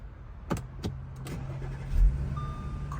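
2016 Audi Q5 started with a newly programmed key: a couple of sharp clicks, then the engine cranks and settles into a steady low idle, heard close up inside the car.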